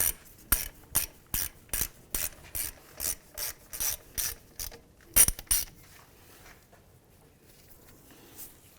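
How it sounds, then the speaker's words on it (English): A ratchet with a 14 mm socket snugs up the front brake caliper bolts on a 2011-2017 Honda Odyssey, making a steady run of about twelve loud, evenly spaced clicking strokes before it falls quiet. "With a 14 millimeter, we're going to snug up our caliper bolts."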